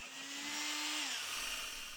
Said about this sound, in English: let's try the same thing with a handheld drill and an even bigger hole saw